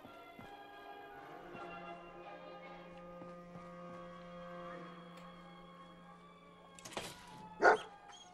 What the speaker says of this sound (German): Ich hab grad einen Hund gehört.